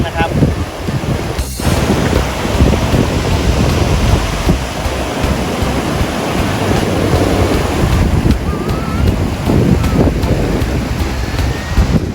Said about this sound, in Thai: หาดแม่ลำพึงนะครับ ก็ถือได้ว่าเป็น อีกหนึ่งหาดสำหรับนักโต้คลื่นเลยนะครับ